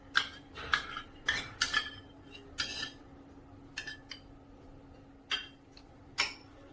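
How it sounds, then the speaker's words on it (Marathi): A spoon whisks fresh curd in a bowl, making a series of quick, light metallic clinks and scrapes in irregular bursts, close and fairly quiet with a faint hum beneath. "हे व्यवस्थित असं फेटून घ्यायचं।"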